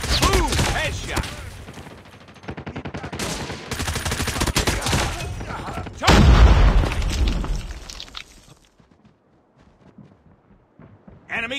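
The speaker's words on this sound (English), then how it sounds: "Sniper. Boom! Headshot!" Rapid sniper and automatic gunfire in the Call of Duty Mobile video game, with dense crackling shots, a heavy booming blast midway, and game voices calling out over the action before it fades to near silence.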